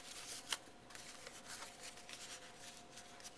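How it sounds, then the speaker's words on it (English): A paper box is folded along its scored lines with soft, faint creasing and rubbing, plus a sharper crackle near the start, and no voices. "I'm just going to start folding in on my lines."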